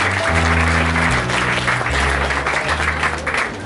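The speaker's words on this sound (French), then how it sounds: "Et on peut vous applaudir." Audience applauding at a speech by the editor-in-chief of Lyon People magazine: a sustained, loud roar of many clapping hands, with a low sustained hum or music tones running underneath.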